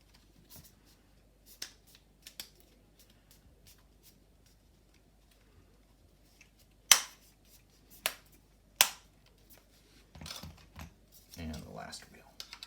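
Small plastic pegs are snapped into Bugaboo Ant stroller wheels, giving a few sharp, close clicks spaced a second or so apart, followed by fainter handling rustle.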